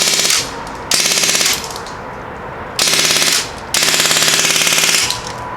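A Umarex Legends MP40 airgun, 2022 version, fires a full magazine in loud, close full-auto bursts, four rapid rattling strings separated by short pauses, with no voices.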